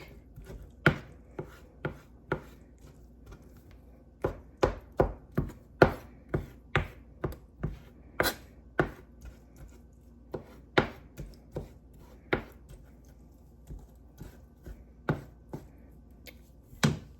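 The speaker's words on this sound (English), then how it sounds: "I've got my mushrooms chopped up" Mushrooms being chopped with a knife on a board: sharp, close knife strikes in uneven bursts, with pauses between runs of rapid cuts, and no talking.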